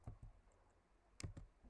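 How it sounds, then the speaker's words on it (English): Quiet clicks of keys on a computer keyboard as a password is typed, a couple of taps, a pause, then a quick cluster of keystrokes, close and faint. "we'll be typing in password"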